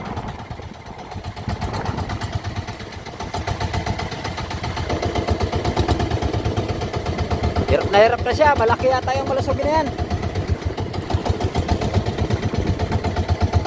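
A boat engine drones steadily throughout, a mid-pitched idling rumble, while people talk over it as the boat circles on large waves.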